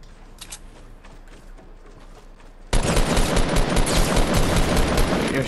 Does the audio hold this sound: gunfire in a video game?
yes